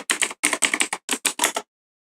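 Rapid, close keyboard typing in short bursts of clicks, a couple of brief pauses, then silence.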